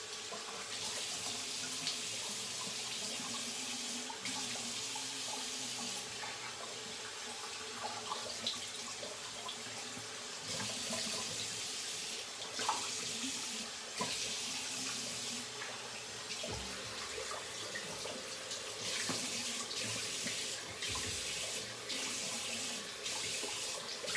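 Tap water runs steadily into a sink for rinsing after a shave, a continuous hiss with small splashes and shifting flow, close and fairly loud throughout with no talking.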